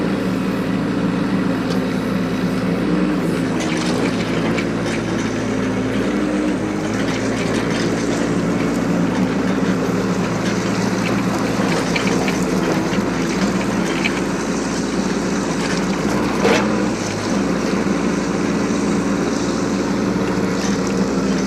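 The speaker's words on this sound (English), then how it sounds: "Now, here you can see we're pulling under our own power. That is something I always like to check on a mini excavator." A 2023 Bobcat E10 mini excavator drives under its own power, its diesel engine giving a steady, loud, continuous drone with track rumble throughout and no talking.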